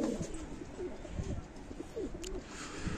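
Newly acquired homing pigeons coo nearby in a steady string of soft, throaty, overlapping coos, with a few brief rustles and no voices.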